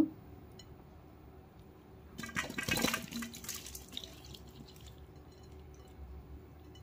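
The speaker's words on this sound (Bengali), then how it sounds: "এখন জলটা ঝরিয়ে নেব ফুটা গামলাতে" Water from salted, turmeric-coated lemon and green chilli pickle pours through a perforated bowl, a soft splashing trickle that swells for about two seconds in the middle of the clip and then fades into faint dripping.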